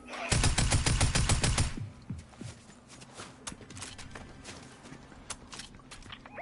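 Rapid automatic gunfire rattles in a dense, loud burst in the video game Fortnite, then breaks into scattered single shots and clattering footsteps that continue more faintly.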